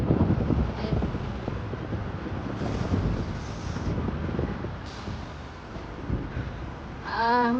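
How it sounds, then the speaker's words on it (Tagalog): Cold wind gusts across the microphone outdoors near Kokura Station, a rough continuous rumble with muffled street sounds beneath and a brief squeal near the end. "Mahangin kasi, ang lamig ng hangin."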